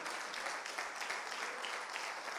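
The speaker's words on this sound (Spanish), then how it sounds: "¿Cuánto dan un aplauso al Señor?" Applause from a church congregation, faint and distant, a steady wash of clapping with no voices over it.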